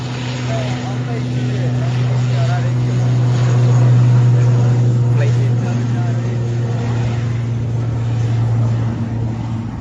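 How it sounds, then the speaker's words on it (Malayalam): A steady, loud engine drone hums throughout, swelling slightly in the middle, as an IndiGo airliner bound for Chennai rolls and powers up for takeoff at Calicut airport, with a constant low roar. "ചെന്നൈയിലേക്ക് പറക്കുന്ന ഇൻഡിഗോ ഫ്ലൈറ്റ് ഇതാ ടേക്ക് ഓഫ് ചെയ്യാൻ വേണ്ടി പോവാണ്"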